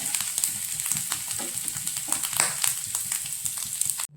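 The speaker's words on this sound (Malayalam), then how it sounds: "അത് ആ നെയ്യിലേക്ക് 1 സ്പൂൺ തേങ്ങ ജസ്റ്റ് ഫ്രൈ ചെയ്തെടുക്കാം" A spoonful of grated coconut frying in hot ghee in a pan, a steady close sizzle with soft crackles and scraping stirs throughout.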